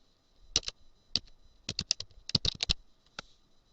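Typing on a computer keyboard in short bursts of crisp, close clicks with brief pauses between them, quiet and alone with no talk.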